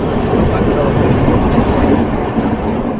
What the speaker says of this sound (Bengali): ট্রেন এখন ভালোই টানছে, জলেশ্বর এসে গেছে।